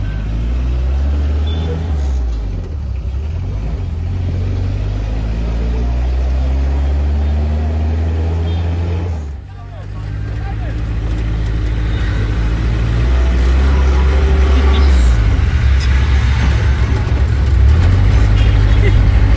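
A bus bound for Bitabe in Congo rumbles loudly and close, its engine droning with shifting low tones and a brief dip as it changes gear, with road noise building steadily underneath.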